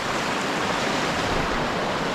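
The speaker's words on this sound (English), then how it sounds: "This is a trout release stream, so it's relatively shallow" Shallow trout release stream in winter at Panther Creek, upstate New York, with ice along the banks: a steady, dense rushing flow of water, close and continuous with no other sounds.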